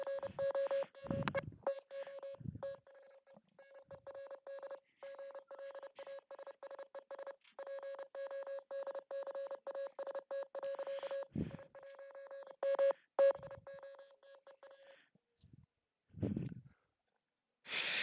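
Morse code plays as a long run of clear electronic beep pulses, a single steady pitch switching rapidly on and off in short and longer bursts, with brief breathy noises around it.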